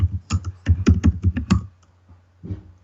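Clicky bursts of keystrokes on a computer keyboard while entering a build command in a bash terminal, a quick uneven run of taps that pauses and then resumes briefly, close and clear with no talk.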